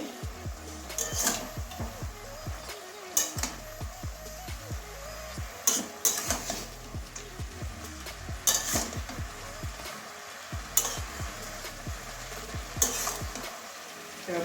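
Rohu fish head, bottle gourd greens and slit green chillies are stirred in a frying pan: repeated close scraping strokes of a utensil over a gentle sizzle, with occasional sharper clinks against the pan.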